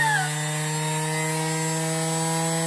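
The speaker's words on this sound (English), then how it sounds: "This is the DeWalt tutorial on how to use a quarter inch sander, how to load it." A DeWalt handheld quarter-sheet sander running at full speed, a loud, steady high-pitched whine and buzz with no pauses over a couple of seconds.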